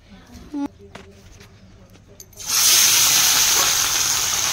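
Turmeric hits hot oil for an Odisha fish masala curry, breaking into a loud, steady sizzle partway through after a few quiet clinks and faint background sounds.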